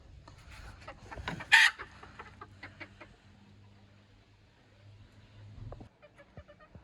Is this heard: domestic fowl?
yes